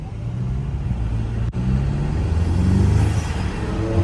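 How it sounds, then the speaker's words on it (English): A car engine's intake drones steadily from inside the cabin, briefly cutting out for a moment before the low rumble swells again toward the end. "The intake just sounds so good though."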